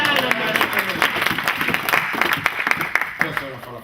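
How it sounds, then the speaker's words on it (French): A church congregation applauding to acclaim the Lord during a French sermon, dense sustained clapping from many hands with a crowd murmur and a voice speaking over it. "Quelqu'un peut acclamer le Seigneur."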